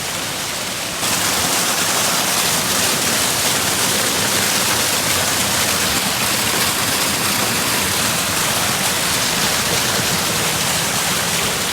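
Water gushes in a loud, constant rushing roar that fills the whole recording, on a road trip through Sri Lanka.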